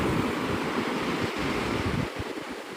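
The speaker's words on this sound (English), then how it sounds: "Those waves hit dramatically." Ocean surf at Navarre Beach, Florida rolls in as a steady, dense roar of breaking waves with wind rumbling against the microphone, loud and continuous, with no voices.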